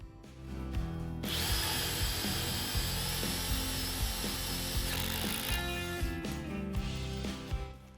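A Parkside 20V cordless impact driver twists a large, resistant screw, giving a steady close-up whirring buzz with rapid hammering clicks for several seconds before winding down.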